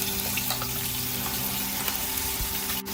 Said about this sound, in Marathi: कढईत आपण तेल घेतलं आहे आणि त्यामध्ये हे वाटण आपल्याला घालायचंय